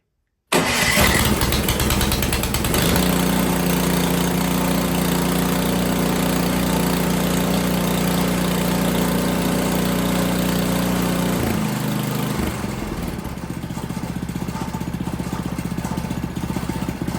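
An Ariens Platinum 24 snowblower engine, choke on and throttle up, cranks and catches, then runs at a loud, steady, even idle close by, with a brief dip in pitch near the end and no talking.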